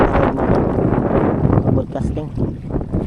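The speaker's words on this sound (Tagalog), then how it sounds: "malakas pa talaga yung hangin ngayon" Strong wind buffets the microphone at an outdoor fishing spot by the water, a steady low roar throughout while someone talks over it.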